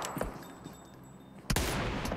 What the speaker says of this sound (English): Ego using a bolt action, I believe an M24.